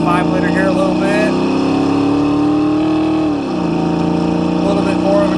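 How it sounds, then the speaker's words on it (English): A 1991 Ford Mustang LX coupe with a 5.0 V8 and automatic transmission accelerating from inside the cabin, a loud droning engine note that rises steadily, dips briefly at a shift, and pulls again. "Test out the 5-liter here a little bit."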